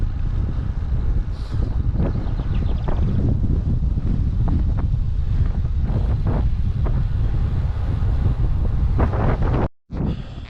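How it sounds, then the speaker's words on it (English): Steady, loud wind buffets the microphone while cycling on a long ride through the Cumbrian fells, a continuous low roar with gusting texture and a brief dropout near the end, no talking. "See, the wind's picked up a tiny bit. It's a very gentle breeze"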